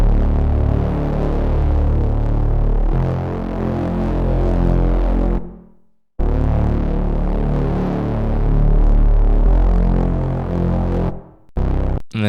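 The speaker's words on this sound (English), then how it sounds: "This bass is also from my Exorcist serum bank." A heavy distorted synth bass from a Serum preset plays a repeating D-to-F riff, loud and sustained in two long phrases separated by brief silences.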